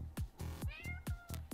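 A cat meows repeatedly in a rhythmic series of about six loud, close calls, some drawn out with a wavering, caterwauling tone.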